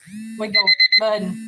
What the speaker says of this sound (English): if y'all heard that beeping, that was my alarm